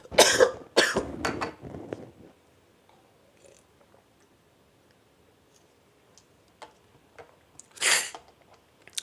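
A preacher coughs during a Sunday morning church service: a cluster of harsh, close coughs, then a long near-silent pause with faint ticks, and one more sharp cough near the end.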